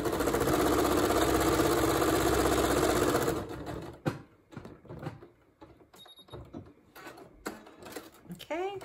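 A sewing machine running a quarter-inch quilt seam for about three seconds with a steady rapid whir, then stopping and giving way to handling noises and speech.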